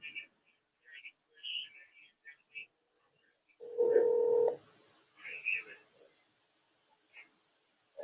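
Telephone dialing tones sound as a call is put through on a live broadcast line: short beeps, a longer steady tone and more scattered tones, fairly faint with gaps between.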